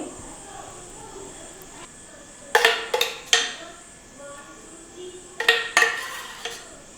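A metal spoon clinks sharply against a steel bowl and pan as rava upma mix is transferred, with two clusters of quick scraping taps over a quiet kitchen background.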